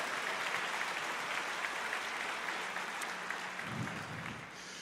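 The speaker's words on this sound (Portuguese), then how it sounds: "Pode aplaudir o Senhor" A church congregation applauds during a sermon, a steady wash of many hands clapping that continues for several seconds and fades slightly near the end.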